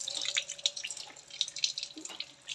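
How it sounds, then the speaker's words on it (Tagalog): Water running and draining through a kitchen sink that has just been unclogged, with close trickling, dripping and gurgling, and small splashes and droplets throughout. "Tumatagas na yung tubig."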